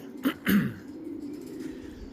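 Young racing pigeons outdoors give two soft, low coos close by, separated by a short pause, followed by quiet rustling and faint background noise.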